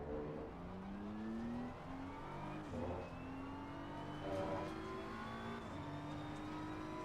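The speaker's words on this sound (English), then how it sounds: "as soon as we hit the inside curb, we floor the car" Race car in Assetto Corsa Competizione on the Nordschleife, its engine note climbing steadily through several upshifts under full throttle, a smooth, continuous whine with brief dips at each gear change.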